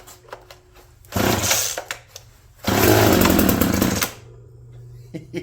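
A primed and choked MAC 3200 chainsaw is started, first with short pull bursts. It then catches and runs loudly for about a second and a half before cutting out, nearby and with no talking.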